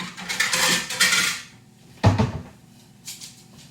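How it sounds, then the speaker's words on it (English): Dishes clatter in a home kitchen as a plate is pulled out for a low carb breakfast, with a rattling scrape of crockery, a sharp knock midway and a lighter clink near the end. "Let me grab a plate real quick."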